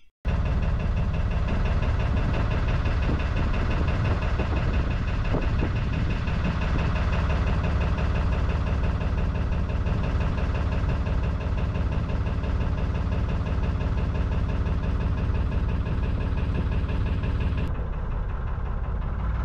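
Boat engine idling at its mooring on a breezy morning, a steady low throbbing hum with a fast regular beat, running unbroken at moderate level and dropping slightly near the end.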